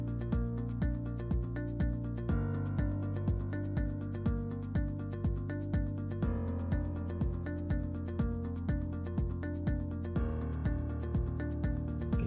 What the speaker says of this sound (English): we'll take our RO sander and run it over the top of it